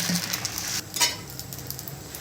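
Ragi dosa batter sizzling on a hot tawa at a roadside tiffin stall, a steady bright frying hiss that runs the whole time, with a soft clatter of utensils near the start.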